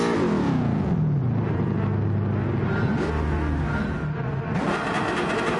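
A Gran Turismo 7 race car at a grid start on the Red Bull Ring holds a loud, steady engine drone, with pitch sweeping down and climbing again as the revs are worked, alongside other cars rumbling nearby.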